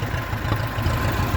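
A 1958 Massey Ferguson 35 tractor engine, restored and switched over to run on TVO, idles at a steady, low, even throb heard close up on its own.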